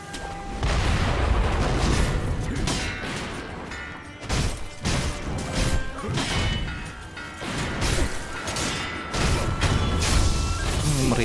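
Heavy booming cannon blasts sound over and over in a chaotic, noisy battle scene in the video game Sekiro, with crashes and rushing noise between the deep thuds.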